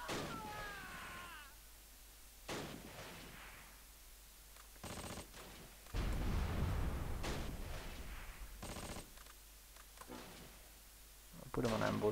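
Bombing explosions and gunfire from the Close Combat war game, The Longest Day, come as several loud broadband bursts and crackling blasts, mixed with someone talking over them.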